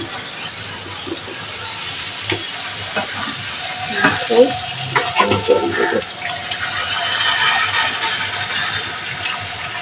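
Curry masala frying in oil in a pan, a steady close sizzle with occasional stirring scrapes and small bursts, the oil already separating from the spices.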